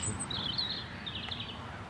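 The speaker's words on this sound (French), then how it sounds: "Ah, nous avons un rouge-gorge," A European robin sings high, thin phrases with a few quick sharp notes, faint over steady outdoor background noise in Paris.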